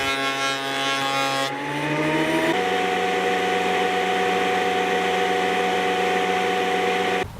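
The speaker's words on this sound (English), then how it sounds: "I can run them through the thickness planer to get them down to 1/4 of an inch" A thickness planer runs continuously as maple boards are fed through it, a loud, steady motor whine with a pitch shift partway in as the cutter bites, then a sustained planing roar until it stops at the end.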